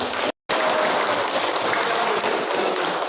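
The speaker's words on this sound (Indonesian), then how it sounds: "Ya, bagus tepuk tangan semuanya" A classroom of students claps together, producing a continuous, even patter of many hands after a brief dropout near the start.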